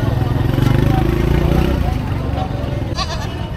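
Goats for sale at a Philippine livestock market bleat in a loud, wavering cry lasting a couple of seconds, heard up close over constant crowd and market noise with people talking nearby.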